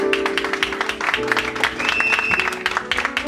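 A church congregation claps during a worship service, a dense, steady patter of applause running throughout while a voice carries on over it.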